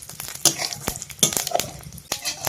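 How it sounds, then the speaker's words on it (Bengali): Mustard seeds and dried red chillies tempering in hot oil in a kadai, heard as scattered crackles and pops, some sharp, in bursts over a low sizzle, fairly close. "তেল দিয়ে দেব। টকের তরকারির জন্য সর্ষে ফোড়ন আর শুকনো লঙ্কা।"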